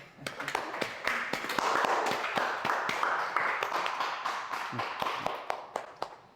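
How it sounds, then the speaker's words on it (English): Audience applause at an interview event about modern art, a dense patter of many hands clapping at moderate volume, building and then gradually thinning out. "Can we get some applause?"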